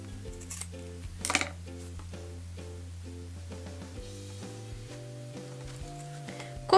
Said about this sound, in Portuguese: Eu vou cortar aqui essa tira ao meio